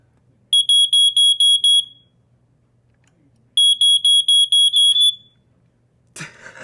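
A First Alert SA88 smoke alarm shrills in two loud bursts of rapid piercing beeps, about five or six each, separated by a few seconds of silence, followed by a short rustling noise.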